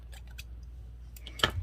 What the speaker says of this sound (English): You will need scissors.